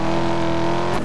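A car engine in a racing video game holds a steady, buzzing high rev for about a second, loud and constant with no talk over it.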